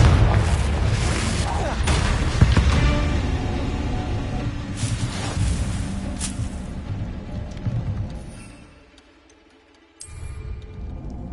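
Confringo fire spell explosions in Hogwarts Legacy, loud booming blasts with rumbling crackle that fade to a near-silent gap before another impact.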